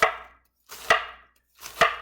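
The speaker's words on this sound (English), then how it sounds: "Once you've cut all of your cabbage into thin strips" Knife slicing through cabbage into thin strips on a cutting board, three distinct crisp chops about a second apart, each with a short rustling tail, close and alone.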